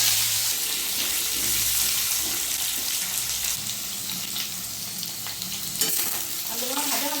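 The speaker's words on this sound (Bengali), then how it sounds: "আলুগুলো ভাজা ভাজা হয়ে গেছে।" Cut potatoes frying in mustard oil with cumin, bay leaf and dried chilli in a wok, a loud continuous sizzle with stirring and clattering of the spatula, no voices heard.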